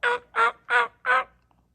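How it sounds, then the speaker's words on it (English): Turkeys gobbling outdoors on a cloudy morning, four rapid loud gobbles in quick succession, close by and clear with no talk. "Talking to the turkeys this morning."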